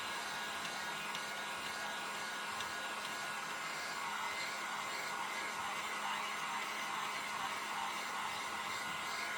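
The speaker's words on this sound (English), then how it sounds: "I honestly haven't had to use a heat tool on screen in a little bit" A heat tool blows hot air to dry stamping ink, a steady even whirring hiss running unchanged throughout, close and moderately loud, with no talking.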